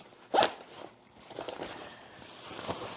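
A zipper on the wrist of a motorcycle jacket is pulled in one quick, close rasp, followed by softer rustling and fabric handling.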